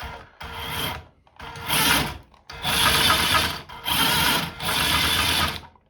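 A 1990s Nikko Turbo Climber radio-controlled toy car runs in bursts, its small motor and gears whirring and rasping loudly in five spurts separated by short pauses, close up with no voices.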